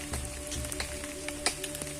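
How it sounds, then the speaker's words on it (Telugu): Heavy rain beats down on a forest outing while gathering firewood, drops pattering on nearby surfaces with scattered sharper hits over a constant low hum. "వర్షం పడుతుంది బాగా"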